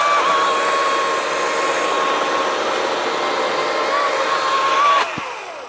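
An EGO 56V 20-inch battery chainsaw cuts through wood with a loud, steady electric whine that holds for about five seconds, then drops off sharply as the cut ends.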